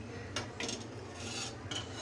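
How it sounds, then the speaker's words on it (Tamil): A spoon scrapes and clinks against a cooking pot as masala is mixed into an oil-based brinjal curry gravy, a few soft scraping strokes and light metallic taps, quiet and close with no voices. "நல்லா மிக்ஸ் பண்ணிக்கோங்க மசாலா எல்லாத்தையும் சேர்த்து."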